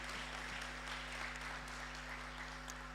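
An audience at a company's tenth anniversary celebration applauds a team, a steady wash of many hands clapping heard from a distance, faint beneath a constant low electrical hum.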